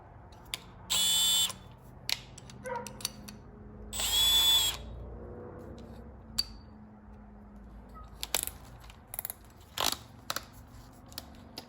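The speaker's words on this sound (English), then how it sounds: "Set to drill, speed 2." Milwaukee M12 cordless drill on a Gen 3 XE 4.0Ah battery, set to drill mode at speed 2, whirs loudly in two short bursts of under a second each, with scattered clicks and handling knocks between them and no talking.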